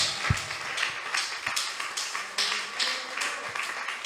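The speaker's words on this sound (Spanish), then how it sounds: "Denle un aplauso a Jesús" A church congregation applauds during a sermon: a steady, dense wash of many hands clapping together, fairly distant and even in level, with no talk over it.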